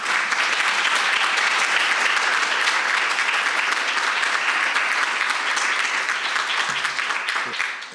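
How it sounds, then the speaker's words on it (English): Audience applause at a Newark summer youth employment program event, loud sustained clapping from a crowd that carries on for several seconds before tapering slightly at the end. "So she deserves a round of applause."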